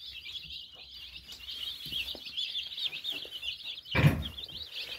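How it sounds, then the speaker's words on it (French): Young broiler chicks peep in a steady, high chorus of overlapping chirps, with one louder nearby thump partway through. "C'est des beaux petits poussins."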